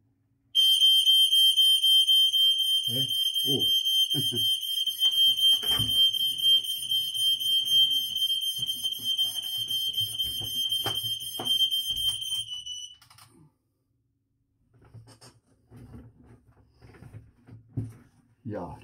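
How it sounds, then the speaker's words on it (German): A smoke detector shrieks indoors, a piercing continuous high alarm tone lasting about twelve seconds before cutting off, with thumps and brief confused voices underneath and afterward. "Das war der Rauchmelder."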